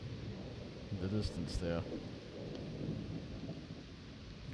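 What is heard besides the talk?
distant thunder during a severe thunderstorm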